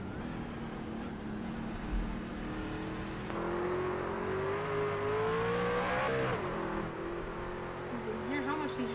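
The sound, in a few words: race cars revving hard out of corners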